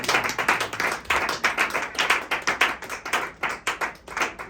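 Church congregation clapping in rhythm during a Sunday service, acclaiming the word of God; steady, fairly fast hand claps from many people, loud and continuous throughout with no talking.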